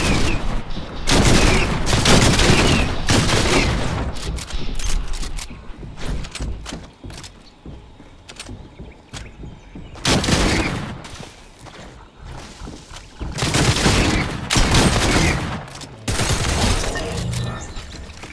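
Repeated bursts of gunfire in Fortnite Battle Royale, loud and close, with clusters of rapid shots separated by quieter gaps across the stretch; a voice speaks briefly among the shooting.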